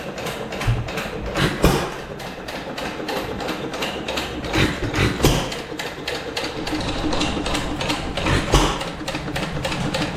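A 1925 Wizard 1.5 hp gas engine runs steadily with its governor working, giving a dense, continuous mechanical clatter of rapid repeating strokes at close range, with no talk over it.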